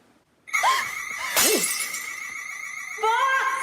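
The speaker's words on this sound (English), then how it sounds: "Second glass that you've broken" A drinking glass shatters in a sudden bright crash, with tinkling fragments and high ringing tones lingering for a few seconds after the impact, loud and close against a quiet room.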